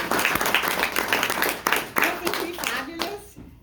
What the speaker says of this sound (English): I would like to have everyone give Scott Bennett a round of applause.